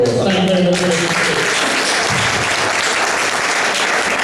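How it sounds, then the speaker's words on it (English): A comedy event audience applauds itself in a loud, dense, sustained burst that carries on to the end, with a short spoken voice at the very start. "give yourselves a round of applause"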